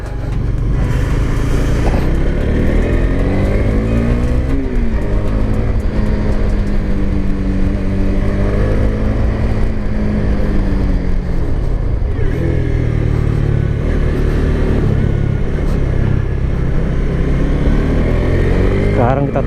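A Honda CB150X motorcycle pulls away and accelerates, its engine note climbing and shifting through steady harmonic sweeps, loud and close throughout, with a rider's voice faintly mixed in.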